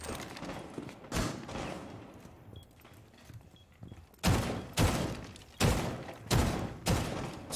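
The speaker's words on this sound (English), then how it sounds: "I'm running into my teammate's gunfire?" Gunfire in the video game Skyscraper: a run of loud broadband bursts in quick volleys, with a few fainter shots early on and then five heavy blasts spaced about half a second to a second apart, with no talking.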